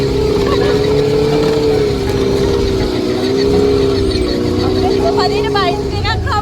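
A motorbike engine hums steadily and loudly throughout a ride in Georgia, a continuous close drone with voices talking over it.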